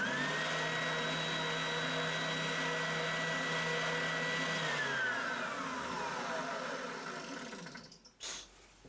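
A Triton TSPST 450 oscillating spindle and belt sander runs with a steady, fairly quiet motor hum, then winds down after being switched off, leaving a soft rumble and a brief bump at the end.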